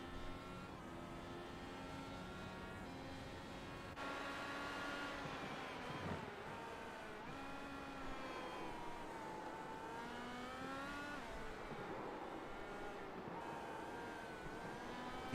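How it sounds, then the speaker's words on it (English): Video game IndyCar engines whine and rev steadily over a long stretch, pitch rising and falling as worn tires slide through corners; continuous, mid-distance, no voices. "You just hear the car sliding around. These tires are roasted."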